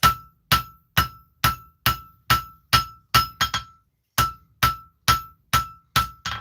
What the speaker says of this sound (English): it said smooth taper, so I'm trying to go through and planish as I go.